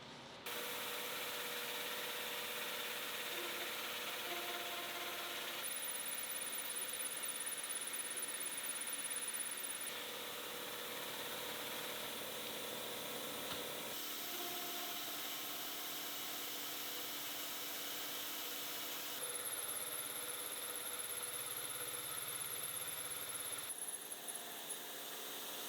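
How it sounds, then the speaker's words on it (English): An end mill machining scallops into a metal knob on a milling machine, producing a continuous high-pitched whine and grinding hum that shifts pitch in distinct passes over roughly half a minute, steady and close with no voices. "and then let the end mill do its thing."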